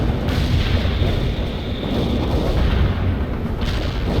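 Cluster bomb airstrike in the video game World in Conflict, a loud continuous rumble of overlapping explosions and booming blasts rolling through the whole stretch, with no voices.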